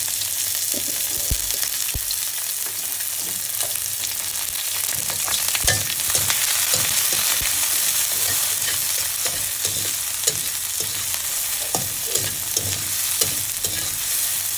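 Green chillies fry in oil in a pan, a loud continuous sizzle with stirring scrapes and pops, close and steady with no talking.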